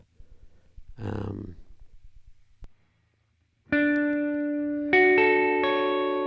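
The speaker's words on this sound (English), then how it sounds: "let's just have a mess with the sound in double reverb" Electronic tones ring out heavily drenched in reverb, first a smeared burst, then sustained pitched notes stepping up with long washing echoes.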